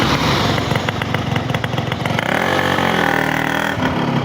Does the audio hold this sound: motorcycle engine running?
yes